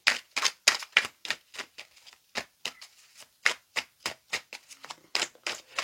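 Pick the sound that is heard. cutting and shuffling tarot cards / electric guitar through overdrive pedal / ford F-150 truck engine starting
cutting and shuffling tarot cards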